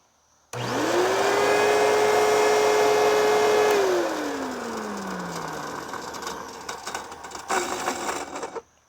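A late-1990s Eureka WhirlWind 5190 bagless self-propelled vacuum with worn bearings starts up close by, holding a loud whining tone that sags and winds down after a few seconds, leaving rough rattling motor noise and knocks.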